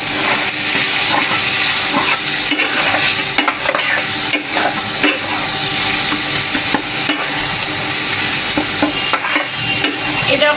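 Goat meat with ground spices and whole garam masala sizzles loudly in a pan while a spoon stirs and scrapes it in frequent, uneven strokes, close and with no talking.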